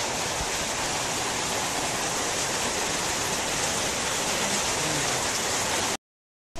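Steady rain pours down on a school-day morning, a dense unbroken hiss that stays loud and even for about six seconds before cutting to silence.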